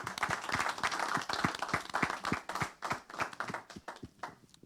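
A church congregation breaks into sustained applause, a dense wash of many hands clapping with uneven, slightly rhythmic peaks, lasting several seconds before thinning out.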